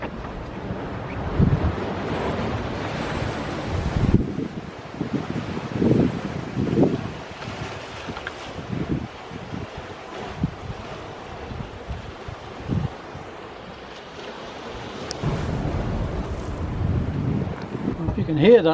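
Ocean waves surge and boom through rock blowholes on a coastal walking track, with irregular low thumps and rushing water under heavy wind buffeting on the microphone, while a person talks intermittently.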